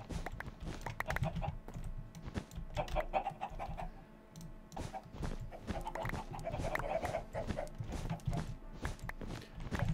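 Many Minecraft chickens clucking in a crowded pen, overlapping with rapid computer keyboard typing and clicks throughout, close and busy.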